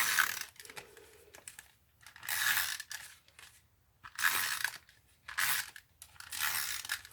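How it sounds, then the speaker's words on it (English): Regular clear tape being pulled off a roll and pressed onto a paper card, several crackling, rasping pulls in bursts with short quiet gaps, close and fairly loud, no voices. "So I'm going to just use regular tape."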